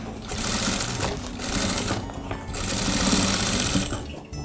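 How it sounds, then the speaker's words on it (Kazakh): Sewing machine stitching the outer seams of embroidered cloth, a loud, close, rapid mechanical whirr in three bursts separated by short pauses. "Біз шеңберді қайталап сыртқы тігістермен тағы бір рет тігіп шығамыз."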